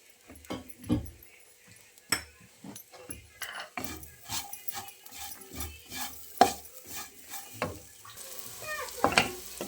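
Jackfruit seeds fry in a pan while being stirred, with repeated sharp scrapes and taps of a spatula against the metal over a quiet, faint sizzle, irregular and close.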